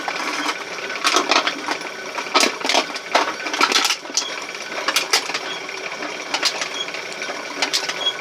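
A homemade RockCan crusher machine runs forward at 50 rpm and back, crushing four cans with irregular sharp metallic crunches and clanks over a low mechanical whir, close up with no talking.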